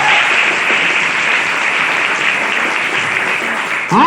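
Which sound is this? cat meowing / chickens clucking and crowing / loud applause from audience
loud applause from audience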